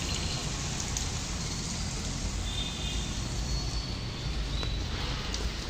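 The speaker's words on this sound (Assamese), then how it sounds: "বৰষুণ দি আছে।" Steady rain falling outside an open balcony door, a dense even hiss of drops on surfaces, continuous and moderately loud with no voices.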